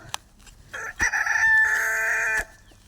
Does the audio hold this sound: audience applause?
no